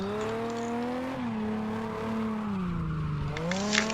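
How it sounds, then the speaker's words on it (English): Race car engine at Nikko circuit rolling through the pit lane, a steady tonal whine that rises and dips with throttle over a few seconds, close and continuous with no talking. "Speeding through the pits, past the cameraman, warm up the tyres."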